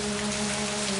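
Steady hiss of light drizzle falling in the Agatha Christie video game And Then There Were None, an even wash of rain with a faint low hum.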